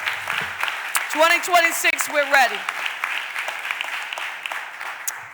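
Applause rises from the chamber at a Philadelphia City Council stated meeting, a broad steady wash of clapping that runs under someone speaking over it and continues after he stops.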